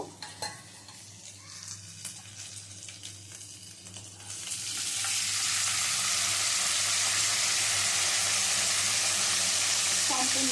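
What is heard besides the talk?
frying marinated rice in oil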